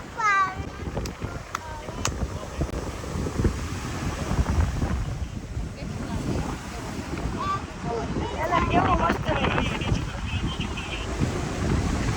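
Wind gusts across the sea face at Daman, a rough, buffeting rumble against the microphone with the wash of waves behind it, rising and falling throughout while faint voices surface now and then.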